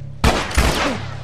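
Gunfire in the video game The Last of Us, two loud close shots in quick succession with a noisy rumbling tail and another hit at the end.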